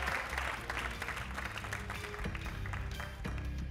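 Studio audience applauding on a Greek game show, a steady dense wash of clapping that runs the whole time, loud and close, with music or voices faintly underneath.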